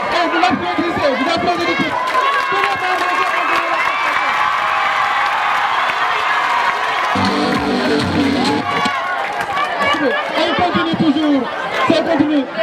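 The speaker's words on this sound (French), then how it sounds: "Et vous l'applaudissez, vous applaudissez l'équipe." A crowd at a friendly school quiz match between two Mboro middle-school teams cheers and claps steadily, a dense, lively roar of voices with shouts and chatter that swells and dips across the whole stretch.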